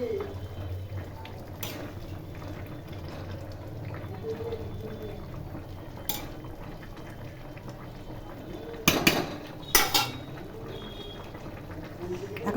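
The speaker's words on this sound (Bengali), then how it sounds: "ঝোল ফুটে গেছে" Curry broth of winter vegetables and coriander leaves boiling in a pot on a gas flame, a low continuous bubbling with faint speech, then two short loud clatters near the end.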